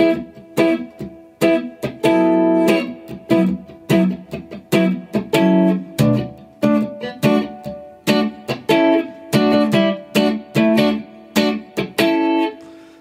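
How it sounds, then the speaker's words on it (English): Electric guitar plays the funky verse line of a song with an effects-coloured tone, a steady run of short, choppy chord stabs in a tight rhythm, close and solo with nobody speaking. "Now the verse, really funky little line, sounds like this."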